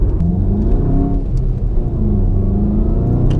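A VW Golf GTI 7.5 with its EA888 engine runs steadily, a loud, close, continuous low rumble and whir with slight revving variation throughout, no talking.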